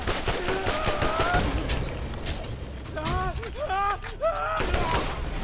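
Rifle gunfire in Borderlands, a burst of sharp game shots crackling near and loud early on, with voices and other game effects layered over and between the blasts.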